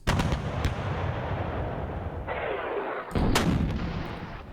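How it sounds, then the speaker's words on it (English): Heavy 120 mm mortars fire in a World War II strategy game set around Kharkov 1942, a dense, roaring barrage of booming shots with sharp reports, loud and continuous. "We got some heavy mortars here. These are good. 120 millimeter mortars."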